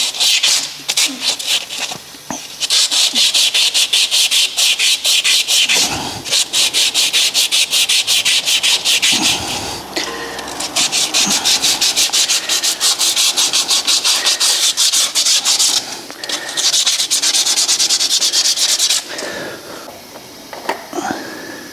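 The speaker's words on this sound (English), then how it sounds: "I'm going to get some emery tape and just clean up around here" Emery tape rubbed by hand over the hub of a brake disc on a Fiat Ducato motorhome van, loud rasping strokes close up, nearly continuous with brief pauses, a voice now and then under it.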